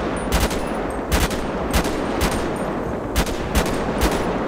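Rifle fire at shooting-range targets in GTA 5 during an army training drill: six or seven loud, crisp gunshots spaced irregularly about half a second apart, with no talking.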